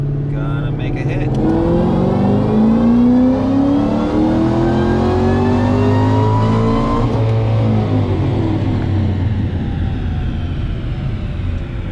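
A supercharged 2012 Ford GT500 with a VMP Gen3R supercharger climbs steadily in pitch on a dyno from about 2,000 to just under 7,000 RPM, a loud, close, continuous rising roar with supercharger whine before easing off.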